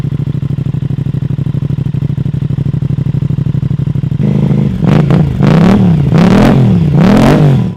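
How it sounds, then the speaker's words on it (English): An Aprilia RS660 cross-plane parallel-twin motorcycle with an uneven firing order, idling with a loud, lumpy, throbbing exhaust pulse, then revved hard in several sharp rising and falling blips, close and alone. "it owes much to that sound of the uneven firing order from the cross-plane parallel twin"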